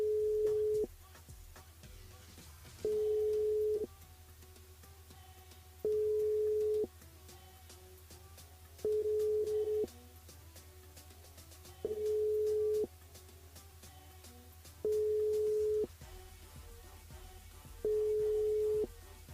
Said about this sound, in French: Bon, ben ça sonne, mais ça répond pas